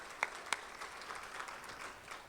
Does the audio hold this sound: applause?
yes